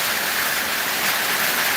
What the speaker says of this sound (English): The rain is raining.